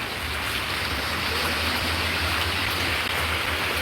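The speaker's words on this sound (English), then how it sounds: "it's raining so bad" Heavy rain pours steadily outdoors, a constant dense hiss with a low rumble underneath and no voices.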